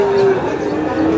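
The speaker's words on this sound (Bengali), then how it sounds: "আমরা আপনাদের দেখাচ্ছি আজকে দিনাজপুর জেলার আমবাড়ি হাটের যে গরুগুলো রয়েছে সেই গরুগুলোকে" A cow moos at a busy rural cattle market in Dinajpur: one short, close, low call opening strongly, then trailing into the murmur of the surrounding crowd.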